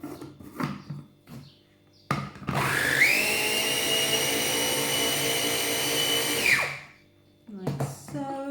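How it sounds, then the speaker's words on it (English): An electric whisk whirs loudly and steadily for about four seconds through an infused herb mixture of citronella and lemon balm for a homemade mosquito repellent. Its pitch climbs as it starts and then winds down, with brief talk before and after. "So just give that another little whisk."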